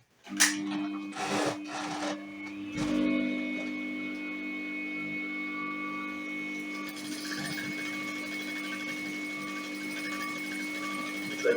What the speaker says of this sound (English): I fixed my gather foot on my machine. So I'm going to start sewing now.